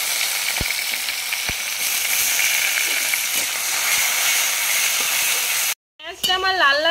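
Chopped onion sizzles steadily in hot oil with bay leaf and dry chilli, a loud continuous frying hiss that cuts off abruptly, after which a voice speaks.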